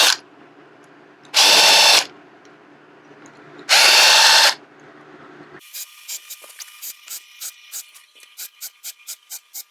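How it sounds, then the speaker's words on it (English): A power drill countersinks screw holes in wood in two loud, whining bursts of about a second each, followed by a series of short, rhythmic mechanical taps and clicks. "I'm going to put a little countersink"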